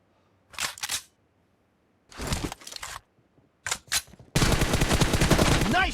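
Gunfire from a 1v1 shooting video game match: short sharp bursts of shots at first, separated by pauses, then a dense, sustained volley of rapid fire toward the end.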